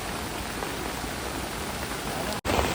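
Steady rain pours down onto water in a Konkan countryside spot, a dense unbroken hiss of drops that stays loud and even throughout, with one brief cut near the end.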